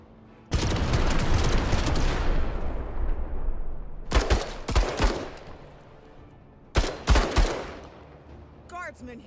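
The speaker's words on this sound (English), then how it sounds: "Fire mission underway." Heavy artillery barrage from a strategy video game fire mission: a long rolling roar of blasts, then two later clusters of sharp booming impacts, loud and close, with a brief voice at the very end.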